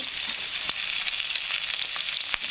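Onion dropped into hot oil with mustard seeds and cumin, a close, bright, steady sizzle with sharp crackles and pops scattered through it, no voices.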